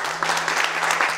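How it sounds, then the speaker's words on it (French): Applause sound effect dubbed in during editing, a short burst of many hands clapping densely and evenly, close and fairly loud. "si je suis fort au montage, il y aura des bruits d'applaudissements"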